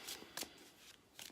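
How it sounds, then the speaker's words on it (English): A deck of tarot cards being shuffled in a few quick, crisp riffling bursts close to the microphone, with short pauses between them in a quiet room. "Do a couple deck shuffles here"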